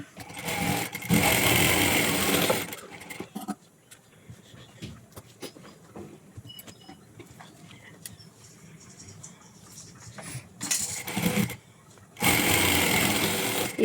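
Sewing machine stitching the back tucks of an aari-work blouse, two loud bursts of rapid mechanical whirring at the start and end, separated by a quieter stretch of faint handling clicks.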